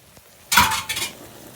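Ground meat mixed with A1 steak sauce and ketchup in a pan: one short, close scrape and clatter of a utensil against the pan, then quiet.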